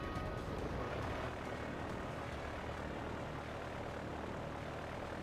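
Airplane flying in the Pokemon Black 2 video game: a steady, loud propeller-engine drone holds alone throughout, with no voices over it.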